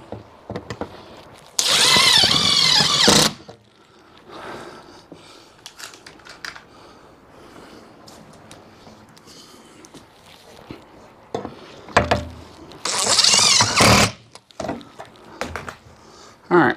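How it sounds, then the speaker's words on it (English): A power driver spins self-tapping screws into the metal cabinet of an HVAC air handler in two loud, sustained bursts of about one and a half seconds each, separated by quieter handling clatter and small knocks. "It's amazing when you have a self-tapping screw what a difference it makes."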